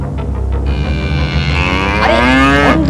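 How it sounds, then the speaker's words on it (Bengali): A raging cartoon bull bellows loudly and close, a long drawn-out moo that rises and wavers in pitch, heard alone without speech. "আরে অন্ধ ভিখিরিটার পেছনে খ্যাপা ষাঁড়।"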